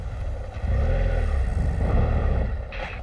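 A motorcycle engine fires up during a riding lesson in Peru, settling into a steady low rumble close by, with no talk over it.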